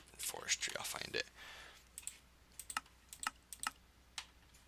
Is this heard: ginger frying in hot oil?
no